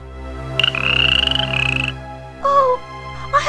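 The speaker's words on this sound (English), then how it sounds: "found herself staring at an ugly green frog" Cartoon frog croaking in an animated telling of The Frog Prince: a loud, close, warbling croak lasting over a second, then a shorter second croak and the start of a third, with no talk.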